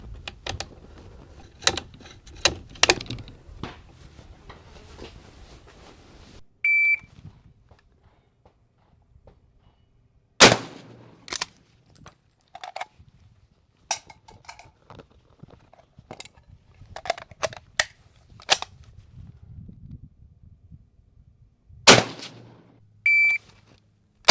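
A Lee Enfield No 4 Mk 1 rifle bolt is drawn out and pushed back in, giving sharp, isolated metallic clacks and clicks spaced by quiet gaps, each one close and crisp, with no speech.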